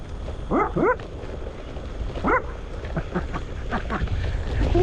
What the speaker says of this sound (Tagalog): aso yan, ang ingay